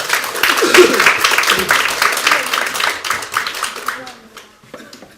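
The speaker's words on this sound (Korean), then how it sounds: "큰 박수로 환영해 주시기 바랍니다." A forum audience claps in dense applause welcoming a keynote speaker, gradually thinning out and fading, with a voice briefly audible underneath toward the end.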